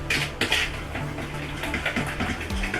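Utensil scraping and clinking against a bowl while stirring keto chocolate fudge cake batter, a steady close rhythm of soft taps and scrapes with no talk.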